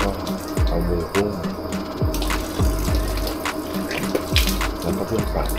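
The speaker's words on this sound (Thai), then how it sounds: "สำหรับพิธีกรรมตรงนี้นะฮะเขาให้ล้างมือก่อน แล้วก็เอามืออุ้ม" Water splashing and pouring over hands at the Meiji Shrine purification basin in Tokyo, a steady close trickle and splatter with outdoor ambience behind it.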